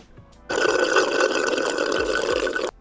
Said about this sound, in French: Je vais boire un petit coup, je vais me rincer avant.